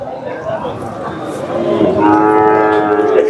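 A Kangeyam-breed bull, one of a pair, lets out a loud, long low moo close by, rising into a sustained bellow over the steady background noise of the Kundadam cattle market.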